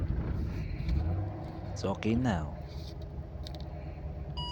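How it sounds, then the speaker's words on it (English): A Chevrolet Caprice engine cranks and starts after a starter-relay connector repair for a no-crank, no-start fault, settling into a low steady rumble close to the mic while a person speaks over it. "Start the car."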